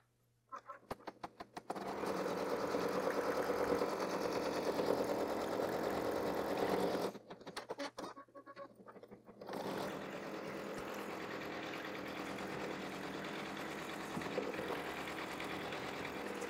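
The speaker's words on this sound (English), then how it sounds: "put it back in the machine, and sew the next color, which will tack it in place" An embroidery machine stitches the next color on an in-the-hoop towel topper with a steady, rapid mechanical whirring. It pauses briefly midway, then resumes at a slightly lower level.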